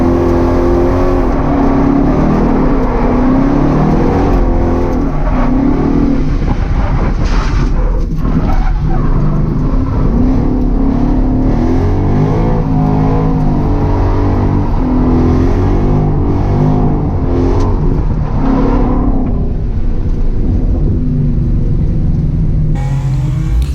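V8 Ford Mustang fitted with an angle kit, driven fast around a slick wet skid pad: loud, continuous engine roar held high in fourth gear, with revs rising and falling and tyre noise throughout, close and unbroken.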